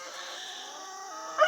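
Hens in a backyard chicken coop, one or two soft drawn-out clucking calls close by, ending in a sharper squawk, quiet with no talking.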